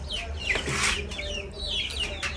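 Black Australorp chicks cluck and chirp close by in short repeated calls over a low steady background hum.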